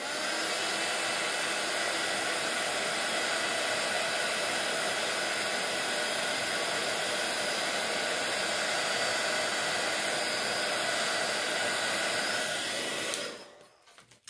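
A heat tool blows steadily while melting green embossing powder, a constant close whooshing hiss that runs without a break for about thirteen seconds and then cuts off.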